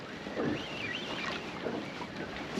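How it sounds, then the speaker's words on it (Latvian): Wind blowing over Liepāja lake, a steady, moderately loud broadband rush with slight gusting swells, with no voices. "Bišķi jau ir varbūt pat liels tas vējš"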